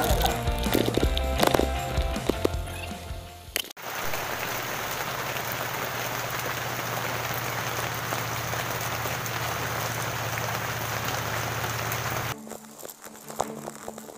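Heavy rain drums on the road in Binangonan, Rizal during a bicycle ride, a dense, steady hiss with low rumble from the bike, after a few seconds of rattling and clatter, with no talk.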